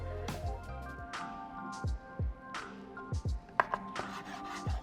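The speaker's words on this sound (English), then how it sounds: "We're going to cut it into pieces, and then we're going to fry it to give it some good flavor." Knife strokes slicing braised pork belly into pieces on a board, a series of separate close, soft chopping knocks and scrapes with short gaps between them, with no talk.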